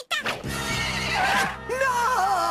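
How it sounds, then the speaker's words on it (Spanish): A cartoon pony lets out a long, loud, wavering neigh up close, breaking off briefly before finishing with a rising whinny, with no talk over it. "Y tampoco recuerdas a tu fiel pony, Cometa?"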